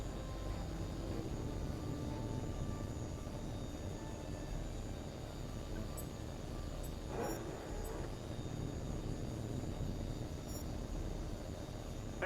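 A jet fighter in Tom Clancy's H.A.W.X. 2 takes off, a steady, loud engine roar and rushing wind holding throughout with a brief brighter swell midway and no talking.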